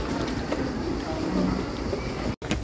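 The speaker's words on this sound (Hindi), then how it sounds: "ये यहाँ की वाटर टैक्सीज जो सबसे पॉपुलर है" Water taxi boat on a canal in Venice, a steady, loud rumble of engine and water wash mixed with wind noise that continues throughout, briefly cutting out near the end.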